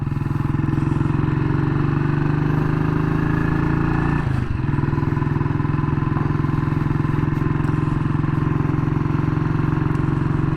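A 1959 BSA C15 single-cylinder motorcycle engine runs steadily while being ridden, a loud close mechanical drone with a slight dip partway through, no talking.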